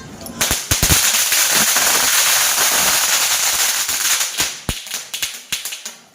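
Diwali firecrackers go off at a home celebration: a series of sharp, loud bangs and crackles, some in quick bursts, with a fizzing sputter between them and people talking.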